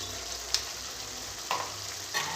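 Ground spices including garam masala and cumin frying in hot oil for an Odia dahi chicken curry, a steady quiet sizzle with a few brief stirring scrapes, no talk.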